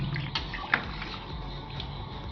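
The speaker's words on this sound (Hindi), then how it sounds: "अभी थोड़ा सा और डलेगा पानी," Water poured into a pot of chicken biryani with rice, a steady low splashing and trickling pour heard close and moderately loud, with a brief sharper splash near the start and no talking.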